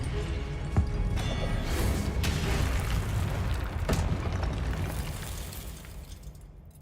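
A Confringo blasting curse goes off in Hogwarts Legacy: a loud, rumbling boom with a sharp crack near the start and another burst mid-way, dense low roar sustained throughout before fading out at the end.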